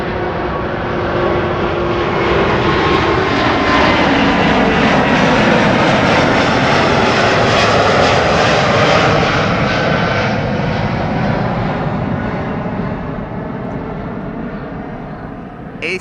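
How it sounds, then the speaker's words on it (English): An Airbus A350 taking off from runway 24 at Amsterdam Schiphol, its jet engines swelling into a loud, steady roar that holds for several seconds and then slowly fades as it climbs away, with no talking. "A350 number 2"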